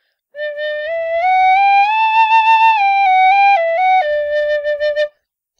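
A tin whistle played with warm air plays a short, clear melody alone, its bright notes stepping up and then back down over about five seconds.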